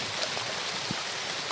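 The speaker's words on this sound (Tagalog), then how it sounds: "Ulan pa." Rain falls steadily near a stream in a rural area, a soft continuous hiss with scattered faint drips, no voices present.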